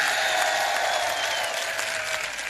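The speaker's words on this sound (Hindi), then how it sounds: "एक बार जोरदार ताली करौली प्रशासन के लिए।" A large crowd at a public event in Karauli applauds loudly and continuously, dense hand claps filling the whole stretch with no voices on top.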